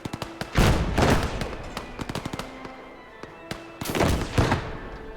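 Mortar blasts and gunfire in the Gates of Hell war game, with a few heavy booming explosions and quick bursts of rapid shots in between, loud and close with no talking.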